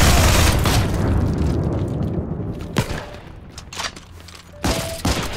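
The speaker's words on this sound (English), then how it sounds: "There's some intense firefights going on in there." Loud, close gunfire and explosions in a Heroes & Generals infantry firefight, a dense opening barrage followed by scattered sharp shots and bursts that trail off and then flare up again near the end.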